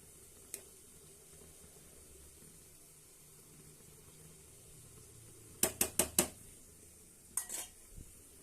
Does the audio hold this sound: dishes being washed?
yes